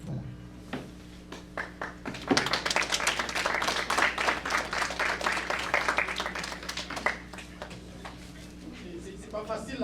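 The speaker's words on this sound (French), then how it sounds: "On applaudit encore une fois M." An audience claps after a speech at a sociocultural association event, the applause starting after a sharp tap and staying moderately loud and steady, with a voice speaking at the start and again near the end.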